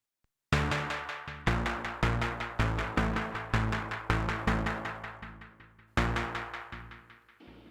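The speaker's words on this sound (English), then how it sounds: "I use this analog synth emulation to create my bass sound." Synth bass from a Native Instruments Monarch analog emulation, with filter contour, resonance and added noise, plays alone as a steady run of punchy, evenly spaced notes that restart with fresh attacks and decay between hits.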